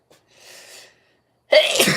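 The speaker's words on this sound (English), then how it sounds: "Whew, about to sneeze." A single sharp, loud sneeze erupts close by after a soft intake of breath, during a handmade fishing lure painting session.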